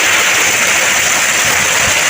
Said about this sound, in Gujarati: અહીંયા તમને પતરાનો અવાજ આવતો છે પતરામાં આપણે વરસાદ પડતો